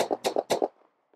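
Video game gunfire during a heist in Perfect Heist 2, a quick string of four or five sharp, loud shots in rapid succession that fade into a faint echo, with one last soft pop after a short gap.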